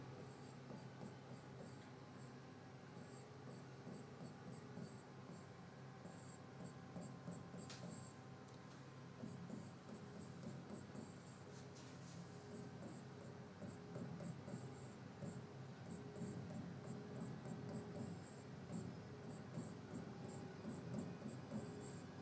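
Pen writing on a surface while a max term for a K-map is worked out, a soft continuous scratching under steady background hiss.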